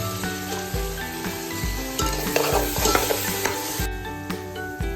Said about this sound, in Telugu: కొత్తిమీర, పచ్చిమిరపకాయ, పుదీనాని ఇలాగ పేస్ట్ చేసుకున్నాను, మిక్సీ వేసుకొని దీంట్లోకి యాడ్ చేసేస్తున్నాను.